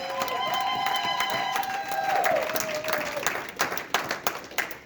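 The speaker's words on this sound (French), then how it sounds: "Donnez-moi un bon amen et acclamons le Seigneur très fort" A church congregation cheers and applauds during a service, loud whoops and sustained shouting at first, giving way to scattered clapping that fades toward the end.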